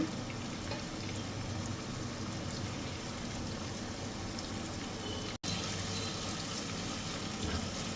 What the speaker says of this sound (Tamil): நல்லா கொஞ்ச நேரம் ஒரு 5 நிமிஷம் போட்டு நல்லா வெங்காயம் வதங்க விடுறோம்